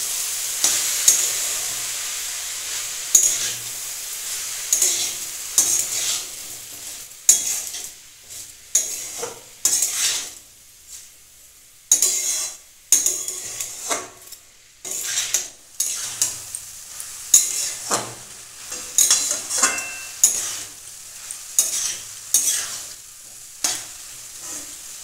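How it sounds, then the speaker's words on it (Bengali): Vegetable kofta mixture with sugar and salt being stirred in a pan, irregular scraping strokes and utensil clatter over a faint sizzle, loud and close. "আবার সব কিছু দিয়ে আবার খুব ভালো করে নাড়তে থাকবে।"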